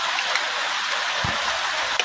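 Rain falls steadily and continuously during a long downpour, a dense close hiss of drops with a few brief thuds, with no talking.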